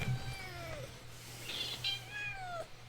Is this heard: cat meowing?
yes